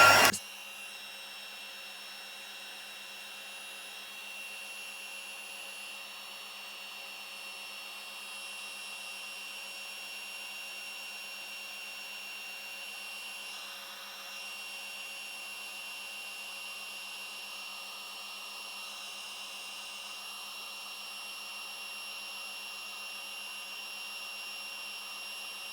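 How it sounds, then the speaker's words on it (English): A heat tool runs on a papercraft card with a steady, even whirring hum throughout after a brief click at the start. "Let's pop the heat tool down on that."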